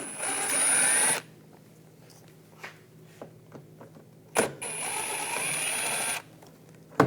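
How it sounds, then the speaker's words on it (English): A power socket driver on a 2014-2018 GMC Sierra trim panel whirs in two steady bursts of about a second each, loud and close, with quieter clicks and handling noise in between. "Take this screw out, then taking these screws out up top, use a"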